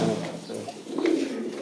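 Fancy pigeons, among them Beauty Homer and Lahore birds, coo in short throaty bursts nearby, with one call swelling louder near the end, alone without speech.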